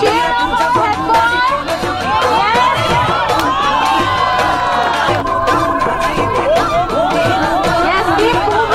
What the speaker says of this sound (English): come on children, cheer up our head boy